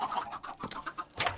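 Chickens clucking in Minecraft, several short bursts of soft clucks in uneven rhythm, close and moderately quiet, with no talk over them.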